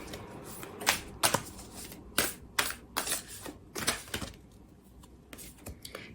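A deck of Black Moon astrology cards is shuffled by hand, giving soft, close riffles and flicks in irregular bursts. The sound is quiet and carries no talk.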